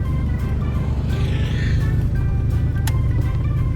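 Ford Bronco II converted into an off-road UTV, heard from inside while driving as a loud continuous engine rumble with wind and road noise and a brief rattle near the end.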